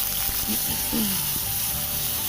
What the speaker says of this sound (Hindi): इसको इसलिए मैं थोड़ा सा नरम कर लिया था प्याज घी में